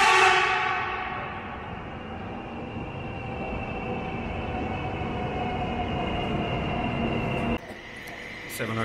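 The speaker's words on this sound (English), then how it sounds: "Some old carriages coming in." Old train carriages rolling into a station in Suzhou, a sustained loud rumble with steady tonal whine and wheel noise that holds, then drops away abruptly near the end.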